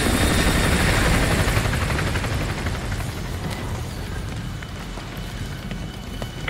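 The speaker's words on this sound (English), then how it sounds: "Enemy helo patrolling the perimeter." An enemy helicopter patrols near an oil rig in a Call of Duty video game, its loud, dense rotor and engine roar filling the scene and easing slightly over several seconds.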